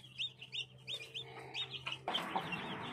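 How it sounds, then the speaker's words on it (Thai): Black chicken chicks in a pen give repeated high, quick peeping chirps, close and fairly quiet, followed by a burst of louder rustling and clatter near the end. "เดี๋ยวเราจะพาไปดูลูกไก่ดำคอกต่อไป"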